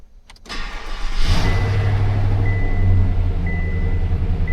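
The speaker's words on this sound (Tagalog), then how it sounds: "So engine start." A car engine cranks briefly and catches, then settles into a steady, close idle with a faint high whine above it.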